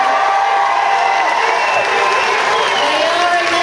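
Audience aboard the Disney Dream cruise ship breaks into loud, sustained applause and cheering with scattered whoops, a dense wall of clapping filling the theater without pause.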